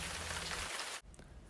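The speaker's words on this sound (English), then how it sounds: "it began to rain." Steady rain hisses as a soft, even wash for about a second before cutting off abruptly, followed by faint patter, used as a sound effect in a children's story.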